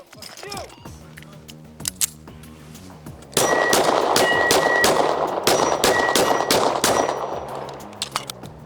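Springfield Armory Echelon pistol shots ringing off steel targets: a rapid string of sharp reports, each followed by a bright metallic clang, close and loud over a dense background, with some voice earlier on.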